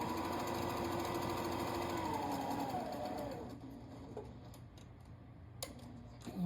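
A sewing machine runs a continuous stitching burr while sewing a petal-decorated pillow at about 2.5 stitch length, then stops halfway through, leaving faint handling clicks and rustles.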